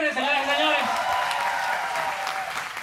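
An audience claps at a church Mother's Day gathering, a steady wash of applause lasting a few seconds while a voice talks over its start.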